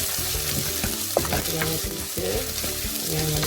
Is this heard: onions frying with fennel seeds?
yes